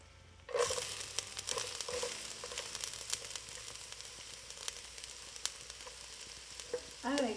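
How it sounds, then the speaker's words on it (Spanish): Garlic, onion, finely chopped meat and diced potatoes hit hot lard with a sudden loud sizzle, then fry in a steady close crackle with occasional clicks of stirring. "vamos a freír con una buena cucharada de manteca el ajo, la cebolla, la carne, que ya la tenemos bien picadita, y las papas"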